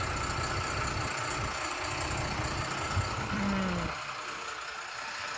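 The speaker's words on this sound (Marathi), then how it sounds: "वोल्वोचा इंजिन हा" A low Volvo boat engine idles with a steady rumbling chug, then drops away near the end, leaving a quieter background hum.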